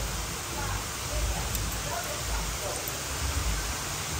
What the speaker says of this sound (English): Is waterfalls all over?